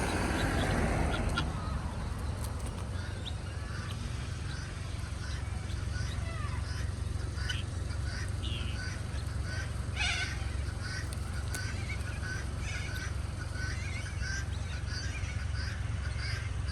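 Ducks, geese and turkeys calling around people feeding them at a park in Caboolture, with scattered quacks and honks over steady low outdoor rumble, and someone talking faintly in the background.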